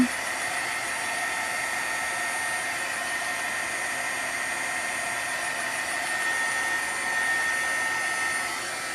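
A hair dryer or heat tool blows steadily on wet watercolor paint on a handmade card, making a constant close whirring hiss of air and motor with no breaks.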